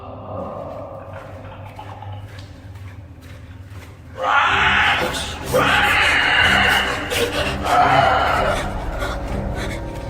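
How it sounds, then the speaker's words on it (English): Horrible unexplained screams echo inside a sewer: a murky ambient rumble gives way to loud, harsh, sustained shrieking and wailing in several surges, reverberant and unsettling. "Whatever made those horrible screams couldn't have been human."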